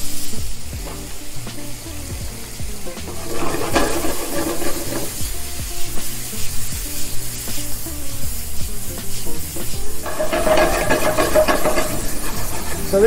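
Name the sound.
shrimp seasoned with Old Bay cooking in a pan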